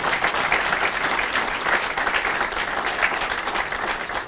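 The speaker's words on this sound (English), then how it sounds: "You can clap now." Sustained applause from an audience at a public announcement event, a dense, steady wash of many hands clapping together that holds at an even level throughout without pause.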